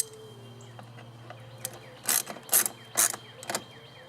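Bolts on a golf cart snugged up with a ratchet, a few crisp clicking bursts near the end over a quiet steady hum.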